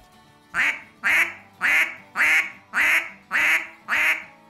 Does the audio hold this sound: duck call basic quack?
yes